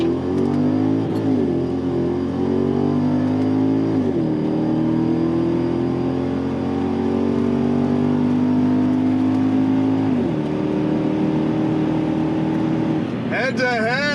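An Infiniti Q45 sedan races head to head on a track day, its engine droning loud and steady with rising revs and shifts, tires scrubbing as another car runs alongside, with brief talk near the end.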